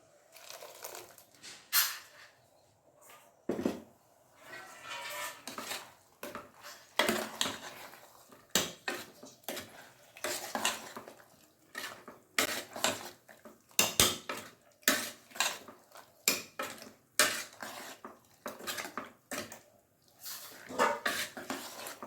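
Ground masala is stirred into a curry pot of cowpea masala saaru, with repeated scraping and clanking of the spoon against the metal in an uneven rhythm and a dog barking in the background.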